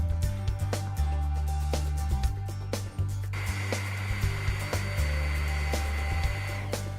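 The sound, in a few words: Huck Model 940 Powerig hydraulic power unit running, bleeding fluid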